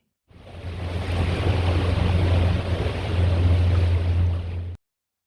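Steady low engine drone of a small tour boat near the Ponta da Piedade sea caves in the Algarve, Portugal, with rushing water and wind noise, continuous and loud before cutting off abruptly.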